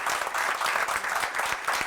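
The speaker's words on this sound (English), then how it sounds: "I want to give her a round of applause" A steady round of applause fills a school board meeting, dense crowd clapping held at an even level throughout.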